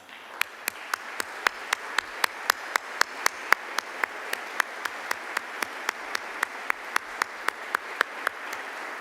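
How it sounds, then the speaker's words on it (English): An audience at a school foundation scholarship ceremony applauds donors with steady, continuous clapping, dotted with sharp individual claps in a regular rhythm. "let's all give them a round of applause"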